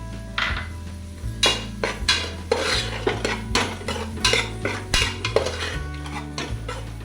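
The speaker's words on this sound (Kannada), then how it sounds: "ಟೊಮೆಟೊ ಕೂಡ ಸ್ವಲ್ಪ ನಾವು ಫ್ರೈ ಮಾಡಬೇಕು" A utensil stirs tomatoes frying in a pot, producing repeated loud metallic scrapes and clanks in an uneven rhythm over a faint sizzle, close up with no speech.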